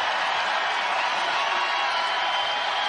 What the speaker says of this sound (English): Neepkins is trying to get this crowd to make some noise